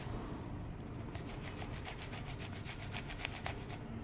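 A part of an iRobot i-series Roomba robot vacuum is scrubbed clean by hand, a steady close rubbing with fast rhythmic brushing strokes, fairly quiet and without speech.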